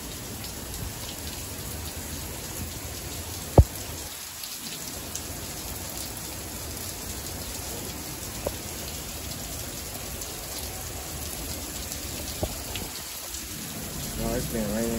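Steady rain falling all day, a dense continuous hiss of drops close by, with a few sharper individual drip taps breaking through now and then.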